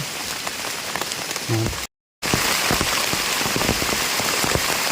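Rain pattering steadily on leaves and surfaces in a forest near Mae On, Chiang Mai, during mushroom foraging, a dense close hiss of drops with one brief dropout partway through.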